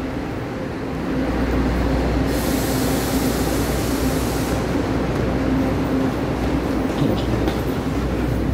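A three-car DRC diesel passenger train pulls into a station on the Pingxi line with a steady loud rumble and rolling wheel noise, plus a brief high hiss partway through as it arrives.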